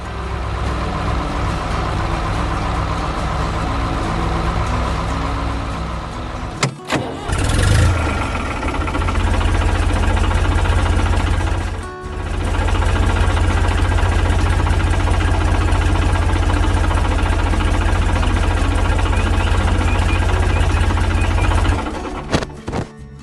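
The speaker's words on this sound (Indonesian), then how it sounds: "tiba-tiba terdengar suara mesin yang menari-nari" A farm tractor engine runs steadily while driving fence posts, a loud continuous idling drone broken by a couple of brief drops and knocks, ending as the engine cuts off.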